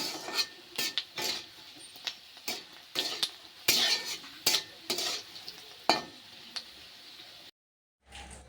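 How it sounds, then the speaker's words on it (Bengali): Papad frying in a pan at home, a close crackling sizzle broken by repeated sharp scrapes and taps of a spatula against the pan, then a brief silence. "তো ভাবলাম না এই পাঁপড়গুলো ভাজা করি তাহলে"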